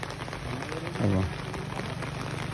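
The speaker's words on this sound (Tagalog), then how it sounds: "Grabe yung ulan." Steady heavy rain hisses across the whole clip, with a brief low voice-like burst near the middle.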